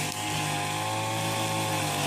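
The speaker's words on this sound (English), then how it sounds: "starting with the strimming" A strimmer whines steadily and loudly while cutting long grass, a continuous close engine buzz with no pauses.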